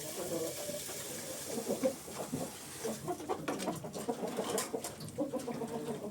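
Roosters crow and chickens cluck at moderate distance, with a voice talking intermittently over the birds.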